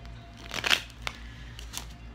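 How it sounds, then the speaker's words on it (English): A deck of tarot cards being shuffled, a brief close riffle of soft papery flicks followed by a couple of faint isolated card snaps in a quiet room. "Couldn't even shuffle the cards."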